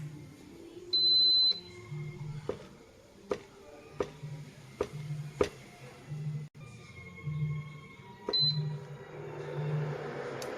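A kitchen stove switched on for an oil-free breakfast gives two short, clear high beeps roughly seven seconds apart, over low background hum and scattered clicks.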